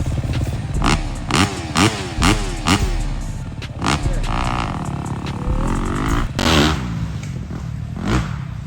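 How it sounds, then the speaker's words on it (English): A four-stroke dirt bike engine comes down a hill during a motocross race, with a series of loud rising revs, throttle blips and gear changes, followed by sustained engine noise that continues as it passes close by. "I hear another about some 4-stroke."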